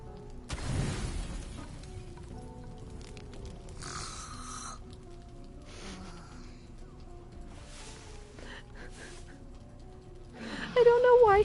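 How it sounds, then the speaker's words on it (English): Shadowheart snoring loudly in Baldur's Gate 3, with drawn-out rasping snores and snorts spread across the stretch, a louder one near the end. "I don't know why Shadowheart snores so loud."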